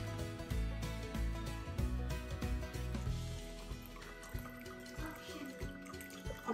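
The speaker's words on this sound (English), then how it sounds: "For me, put a little bit of coconut water." Coconut water poured into a glass or bowl for an avocado drink, a soft liquid trickle with dripping and splashing, quiet and close, with faint music underneath.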